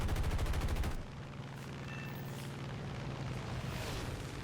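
Rapid, loud bursts of gunfire from a P-47 M-1 fighter's guns in War Thunder, a dense rattling volley for the first second, then a steady engine roar with scattered impacts after.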